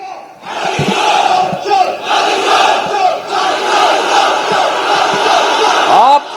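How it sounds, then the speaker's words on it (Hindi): A huge political rally crowd led by Rahul Gandhi chants the slogan 'vote chor gaddi chhod' in loud unison, a dense, continuous roar of voices with rhythmic swells and no pauses. "राहुल गांधी ये नारा लगवा रहे हैं, वोट चोर गद्दी छोड़ का"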